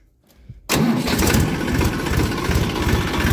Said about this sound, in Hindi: और दोस्तों ट्रैक्टर को थोड़ा सा पहले ही स्टार्ट कर देते हैं।